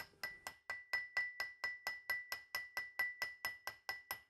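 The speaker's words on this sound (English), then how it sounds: "I usually just come back with a dolly and hammer just to flatten those out a bit" Hammer and dolly flattening snipped sheet-metal panel work on a Porsche 911 restoration, a steady run of about seventeen sharp metallic strikes in even rhythm, close and clear with no talk.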